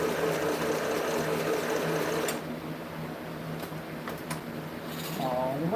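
A sewing machine stitches fabric in a steady, close, continuous run, its rhythmic mechanical whir carrying through the whole stretch and easing slightly midway before picking back up.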